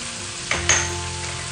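Potatoes drop into a hot pan with fenugreek and soya, setting off a sudden loud sizzle that keeps crackling steadily afterward.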